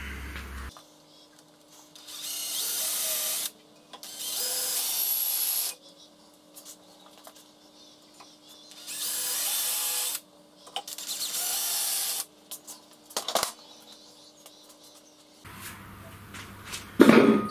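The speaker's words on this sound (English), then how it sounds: "now I can drill it." A power drill runs in several bursts of a few seconds each, separated by quiet pauses, with a steady hum in the background.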